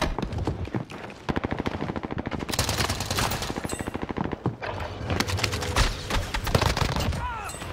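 Rapid machine-gun bursts and gunfire fill a video game firefight, loud and nearly continuous, with short gaps and shifting intensity; a voice talks at moments amid the shooting.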